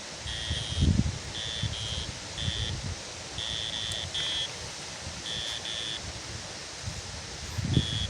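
Fishing reel creaking and clicking in short repeated bursts as it is adjusted during flat-feeder carp fishing outdoors, close and fairly distinct over steady wind noise.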